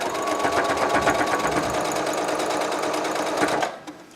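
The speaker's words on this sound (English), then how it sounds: "I do want to backstitch just slightly at the beginning and the end." A sewing machine backstitches binding onto a fabric edge with a close, steady, rapid stitching hum. It runs continuously, then winds down and stops near the end, leaving a few faint clicks.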